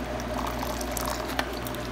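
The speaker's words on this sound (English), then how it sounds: "And we'll add a little bit of hot water to the mix." Hot water poured into a gravy mix at a hotel breakfast setup, a steady close gurgling pour over a low background hum.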